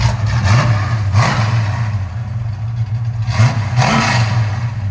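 A 1971 Ford Mustang Mach 1 351 V8 with headers and a custom H-pipe exhaust is blipped several times, each rev rising sharply from a deep idle and falling back, loud and close.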